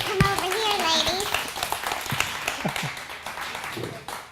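Audience clapping for performers during a live late-night webshow with puppets, a scattered round of claps that fades over a few seconds while voices talk across it.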